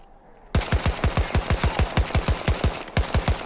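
Rapid gunfire from a semi-automatic gun in the Battlefield video game, about twenty loud, closely spaced shots in a steady fast rhythm with a brief pause near the end, with no talking.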